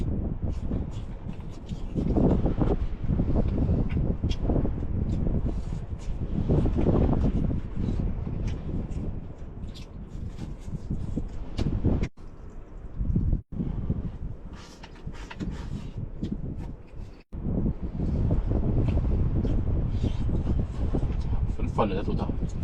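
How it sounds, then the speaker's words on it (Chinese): Strong wind blows around a small camper van parked on a snowbound mountain highway at night, a steady roaring rush heard from inside, mostly beneath continuous close talk with a few brief drops in level. "外面呼呼呼的刮着风"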